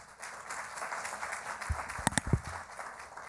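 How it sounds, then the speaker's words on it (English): Applause from an audience at a pharmaceutical economic impact panel forum, a steady moderate patter of many hands with a few sharper thumps near the middle, heard without speech. "Could we please give a round of applause for Tony Sordella again?"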